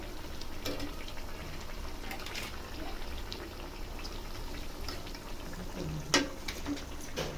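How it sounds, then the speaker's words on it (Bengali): Battered snacks bubble and sizzle in hot oil, a steady crackling fry heard up close at moderate level, with a few sharp clicks and spatters breaking through. "তারপরে চুবাইয়া এটা তেলের মধ্যে দিয়ে দিব"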